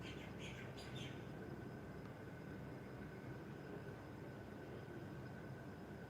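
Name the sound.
birds chirping outdoors in the cool breeze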